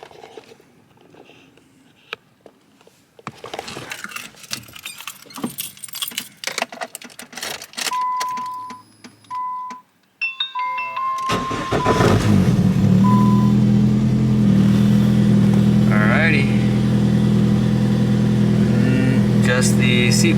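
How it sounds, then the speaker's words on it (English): A Nissan B15 car with keys jangling and interior clicks before the engine cranks and catches, then settles into a loud, steady idle rumble close by. "now we're going to turn the car on and bleed this coolant"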